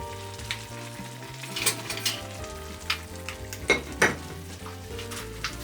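Nabe-yaki udon hot pot broth simmers in a covered pot, giving a steady bubbling sizzle with occasional soft clinks of metal and cookware, close by and with no talk.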